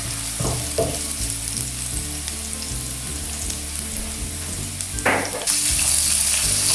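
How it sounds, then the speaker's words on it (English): Garlic fries in a hot pan with a steady, loud sizzle that carries through the whole stretch, broken by a few brief scraping stirs, with no voices. "Let's fry the garlic for about 20 seconds."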